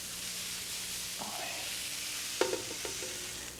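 Carrots, celery and mushrooms sautéing in a pan give a steady soft sizzle with a few light scraping clinks near the end, quiet and close.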